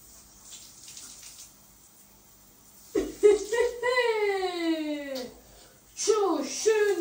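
Warm water runs from a tap into a bath, a soft steady splash that is faint at first, with a voice whimpering and babbling loudly over it and an adult speaking.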